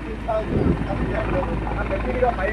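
A helicopter descends to land near a building, its dense rotor roar close and continuous, kicking up dust, with people talking over it.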